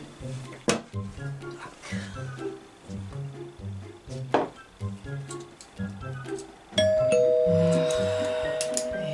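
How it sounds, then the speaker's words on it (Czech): A doorbell at a home rings in repeated two-tone ding-dong chimes, close and clear, followed near the end by a longer, brighter sustained ring. "kdo zvoní?"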